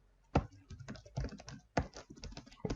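Computer keys are typed close up in quick irregular bursts of clicks and taps while a folder is renamed.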